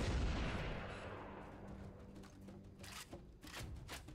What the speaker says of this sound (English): Don't open fire until you hear the enemy return fire on us